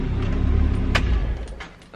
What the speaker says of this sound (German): Warte, ich drehe mal kurz das Auto ab.